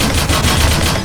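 Rapid bursts of submachine gun fire in the horror shooter game Slendytubbies, loud, dense and continuous for a moment with no voices over it.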